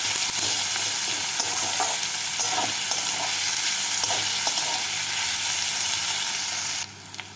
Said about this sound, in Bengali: পেঁয়াজটাকে তেলের মধ্যে নাড়াচাড়া করে হালকা লাল করে ভেজে নিচ্ছি